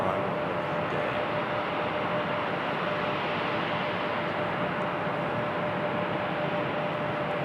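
A Delta airliner arriving from Fort Lauderdale at Raleigh-Durham International Airport roars in a broad, steady jet rumble that stays loud and constant throughout, with no talking.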